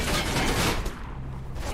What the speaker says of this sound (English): Are they just gonna shoot infinitely?